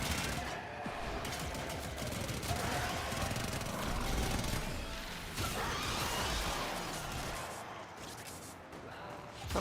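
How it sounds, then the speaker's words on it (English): Constant rumbling explosions and crashing blasts fill a video game scene, dense and loud throughout with little pause, like a barrage of detonations layered over game effects. "I can just hit 4 and everything explodes"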